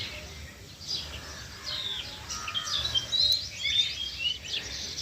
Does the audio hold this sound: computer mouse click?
no